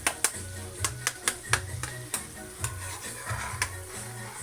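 Garlic and onion sizzle softly in a pan while a utensil taps and scrapes against it in sharp, irregular clicks, close and fairly quiet.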